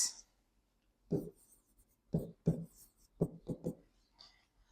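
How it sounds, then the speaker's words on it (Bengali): Pen strokes writing a line of a math equation on paper, several short scratchy bursts in quick groups of two and three, close and quiet with no talking. "লাইনটাকে এখানে আমি একটু লিখি"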